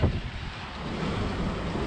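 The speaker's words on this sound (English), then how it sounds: "Lots of wind." Strong Meltemi wind gusting over a sailboat, a steady broadband rush of wind buffeting the microphone, with faint water and boat noise underneath and no talk.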